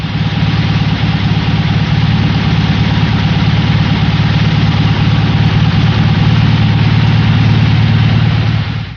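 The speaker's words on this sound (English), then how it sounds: "let's listen to a normal engine as the clutch is pushed down and let back up again" A normal Volkswagen engine idles loudly and steadily with a deep, even rumble while the clutch is pushed down and let back up, the tone holding without audible change.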